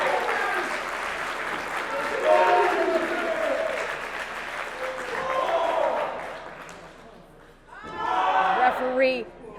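A wrestling crowd at a women's main event in Chicago applauds and cheers in sustained waves. The sound fades down near the end, then swells again in a fresh loud burst of clapping and shouting.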